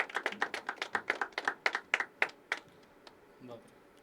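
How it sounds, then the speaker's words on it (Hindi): Audience at a poetry open mic claps for the next performer, a fairly close burst of sharp, quick handclaps that thins out and stops after a couple of seconds, leaving a quiet room. "ज़ोरदार तालियों से स्वागत कीजिए अगले परफॉर्मर का"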